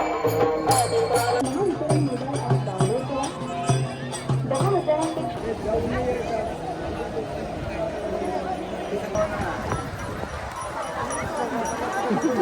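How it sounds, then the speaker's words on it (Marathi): A busy crowd of pilgrims at Ashadhi Ekadashi in Pandharpur chatters and murmurs all around, voices overlapping at a steady level with occasional nearby talk rising above the babble. "गर्दी खूप वाढली जेवढी माग गर्दी आहे तितकीच पुढे"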